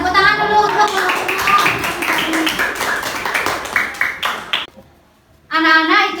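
Classroom children clap for a group of classmates, producing a quick run of sharp, overlapping claps under a teacher's voice. The claps fade, followed by a short silence before speech resumes.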